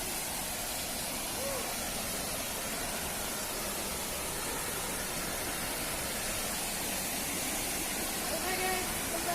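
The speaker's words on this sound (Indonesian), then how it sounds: "Ini dia teman-teman, air terjun Laimuntu." Laimuntu waterfall in Aceh Singkil, reached over slippery large boulders, pours with a steady, dense broadband roar that stays constant and fairly loud throughout, with no voices on top.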